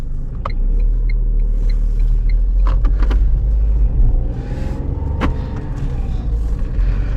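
A Tata Punch automatic's engine rumbles low and steady as it creeps slowly uphill on a mountain road to Kodaikanal, with a few clicks and a sharp knock partway through.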